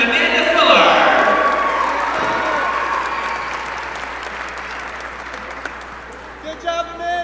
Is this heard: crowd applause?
yes